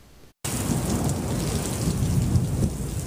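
A thunderstorm with heavy rain pours steadily and loudly, with dense rumbling underneath, after a brief quiet gap at the start.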